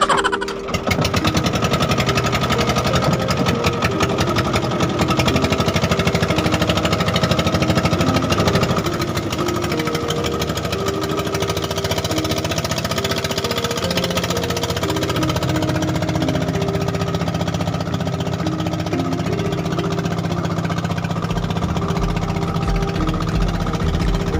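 A fishing boat engine runs loud and close at a steady, hard-knocking idle, with a sharp start at the opening and a constant rattling drone that eases slightly partway through and continues without a break.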